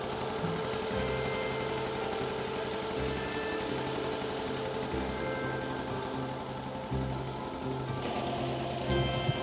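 A passenger ferry boat's engine chugs steadily during a short river crossing from Swarupganj ghat to Mayapur ghat. The low, throbbing drone continues without pause.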